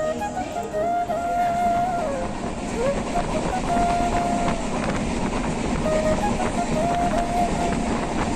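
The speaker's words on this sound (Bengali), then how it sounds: "এরপর আমাদের ট্রেন এগিয়ে চলল তার পরবর্তী গন্তব্য অর্থাৎ বেলদা স্টেশনের উদ্দেশ্যে" The 12821 Shalimar Puri Dhauli Express rolls along the rails toward Belda station with a steady, loud rumble and rattle, thin whining tones drifting over it throughout.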